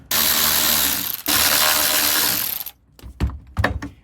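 A ratchet loosening 13 mm bolts on the shifter of a 1967 VW Type 3 Squareback, heard as two sustained, close, buzzing runs of rapid pawl clicking followed by a few separate, heavier clunks.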